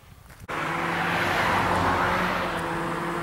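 A car on a quiet road rushes past loud and close, its steady roar with engine hum rising after a sudden onset and holding to the end.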